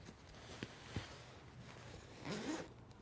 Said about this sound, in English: and feed the zipper through.